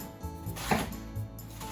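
A knife cuts the leafy part of a vegetable for sukiyaki on a board, giving a few soft crunchy chops and one firmer central cut, close and fairly quiet with no talking.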